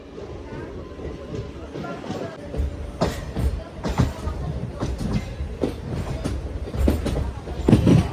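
MEMU passenger train 67204 pulls out of Renigunta Junction toward Nellore, its wheels beating a steady clickety-clack over rail joints with rumbling carriage noise, heard close from on board, with a voice talking over it.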